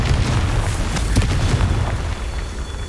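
Confringo, a fiery explosive spell, cast in the video game Hogwarts Legacy, heard as a loud rumbling boom with a sharp burst, sustained for a few seconds before tapering slightly.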